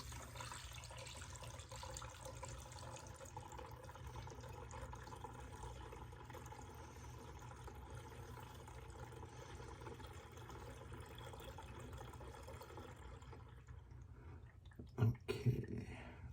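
Coolant in a 50-50 mixture poured into the reservoir of a Maserati GranTurismo, a faint, steady liquid trickle running continuously before a few soft knocks at the end.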